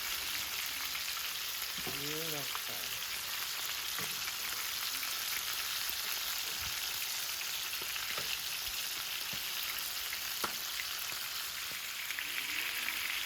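Steady, dense sizzling of rabbit pieces frying in hot oil in two pans, continuous throughout, with occasional faint clinks and a brief distant voice.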